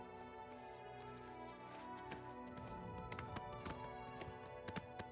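A summoned horse's hooves clop quickly along a road in the video game Oblivion Remastered, an irregular patter of quiet hoofbeats running under a busy wash of music and ambient game sound.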